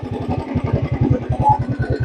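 A restored Royal Enfield Bullet 350 Standard BS3 with a self-start fitted and its bent silencer replaced idles close by, its engine thumping in a fast, even, steady beat with a light mechanical clatter over it.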